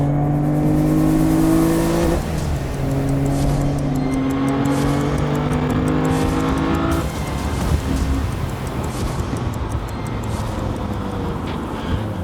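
The engine of a Portuguese-built Adamastor P003RL sports car roars and revs loudly, pitch climbing through a gear change, then settling into a rough, throaty drone close by.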